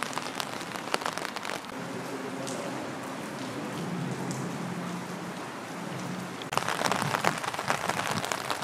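Heavy rain drums on a cheap £5 Sports Direct umbrella in Southport, a dense close patter of drops that grows louder and sharper in the last couple of seconds, with faint background murmur.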